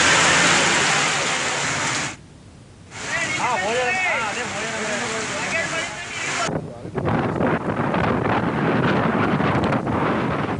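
Gusty wind during a sudden storm in Vizianagaram district, Andhra Pradesh, roaring loudly into the microphone in buffeting bursts with a brief lull, while a voice talks over it in the middle stretch.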